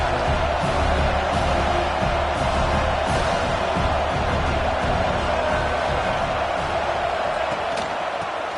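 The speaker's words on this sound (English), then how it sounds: "this crowd is turning it up a notch" A football stadium crowd cheers and roars for Michigan State against Notre Dame, a loud, dense, continuous wall of crowd noise with scattered whoops, heard without talk.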